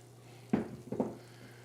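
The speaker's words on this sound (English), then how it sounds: "there's no other better sound than that sound of the sizzle" Tomato sauce, garlic and onions hitting hot oil, two short bursts of sizzling and stirring half a second apart over a low steady kitchen hum, with no talk.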